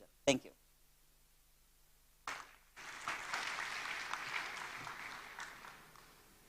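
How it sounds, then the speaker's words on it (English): A conference audience claps together, the applause swelling after a brief pause and holding steady for several seconds at a moderate distance. There is no speech. "Once again, let's give a round of applause for Mrs. Connie."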